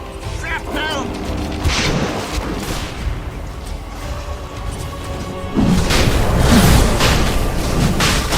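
Sniper's Shrapnel ability in Dota 2 sets off booming, rumbling explosions amid game battle noise, growing louder and denser partway through, with a caster's voice over it.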